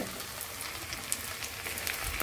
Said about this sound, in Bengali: এখন আমি এগুলো তেল কড়াইয়ে দিয়ে দিয়েছি, তেলও গরম হয়ে গেছে